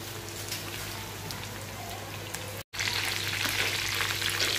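Chicken pieces fry in hot oil in a pan for chilli chicken, a dense, continuous crackling sizzle heard up close, with a brief dropout midway before the frying resumes even louder.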